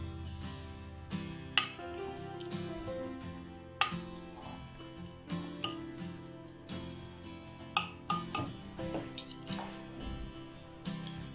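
Pasta and spices stirred in a pan, with irregular metallic clinks and scrapes of the utensil against the pan, moderately quiet and close, without talk.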